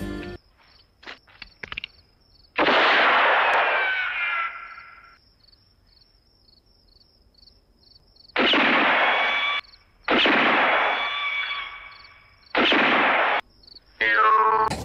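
Gunshots in a night-time shooting contest from a film, several loud sharp blasts with ringing tails spaced a few seconds apart, alternating with quiet gaps filled by faint crickets.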